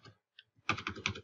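Quick run of close, crisp computer-keyboard keystrokes as a number is entered, a couple of isolated taps followed by a rapid burst of several keys, with no talking over them.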